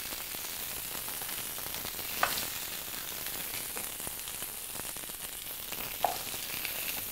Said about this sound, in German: Und legen die Rouladen, so wie sie sind, hier in die Soße ein.